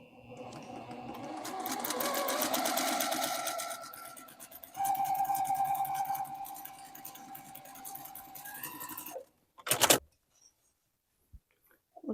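A sewing machine stitches half square triangle quilt pieces in two long, steady runs of rapid mechanical whirring, then stops. A few short clicks and handling noises follow before near silence.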